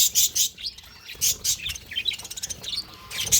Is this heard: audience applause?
no